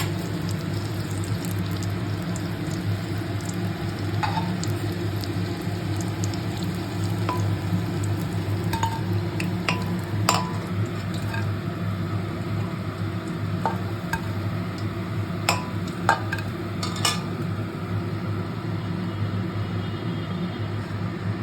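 Cauliflower pakoras deep-frying in hot oil, a steady close crackle and hiss with scattered sharp pops and drips throughout, no voices.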